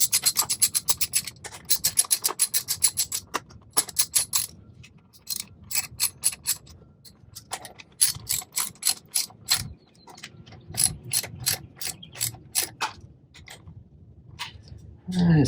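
Ratchet tightening the sprocket bolts on a 2018 Honda CRF250L Rally motorcycle, close rapid clicking strokes in repeated bursts with short pauses between them.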